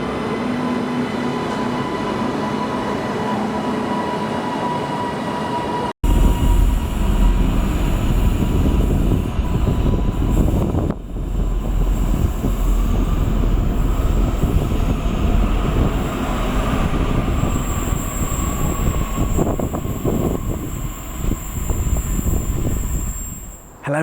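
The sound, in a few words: Northern train at Bolton station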